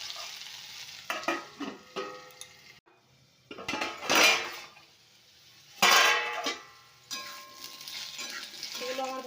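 Chopped ginger and green chili fry in a pan with a steady hiss, broken by scraping stirs and clinks of a spatula against the metal, the sizzle swelling loudly twice before settling.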